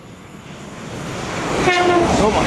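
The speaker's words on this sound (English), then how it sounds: "Pass through now will be an LNER Azuma working a service from London King's Cross to Leeds" An LNER Azuma high-speed train runs through Retford station on the East Coast Main Line, its rising roar building as it nears, with a whistling tonal whine and rail rumble growing louder toward the end.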